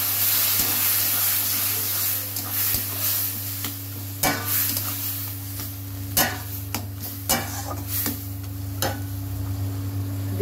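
Water is added to boiled dal in a pan of fried spices. A steady sizzling hiss sounds over a low hum, punctuated by sharp, irregular clicks and pops from spattering and stirring.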